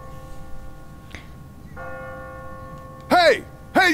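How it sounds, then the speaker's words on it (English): A church bell in The Walking Dead game rings with a sustained, ringing tone, fading slowly, followed later by loud bursts of a shouting voice near the end. "What kind of church bell goes off at 20 past the hour?"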